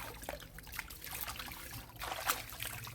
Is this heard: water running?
yes